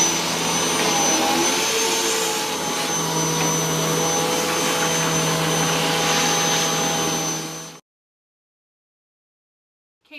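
A Hoover Windtunnel bagless upright vacuum cleaner drones steadily up close with a strong whining motor hum and airy rush, running for about eight seconds before cutting off abruptly into silence.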